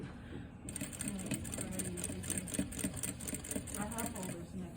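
A sewing machine stitches bias binding onto a neckline in a steady rapid run with a high whine, sewing throughout while a person talks over it.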